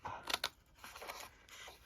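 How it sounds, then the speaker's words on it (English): A few quick crisp snips of scissors through paper, two sharp cuts early then softer trimming, close by and quiet. "Let me just bring in my smaller scissors here."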